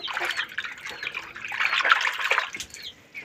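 Water poured out for chickens, a steady broadband splashing and trickling that fills the whole clip at moderate loudness with no talk over it.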